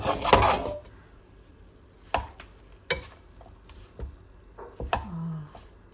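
Tempe botok mixture with basil, scallion and celery being stirred: a few soft scraping knocks of a utensil against a bowl, spaced irregularly, close by and fairly quiet, with no talking.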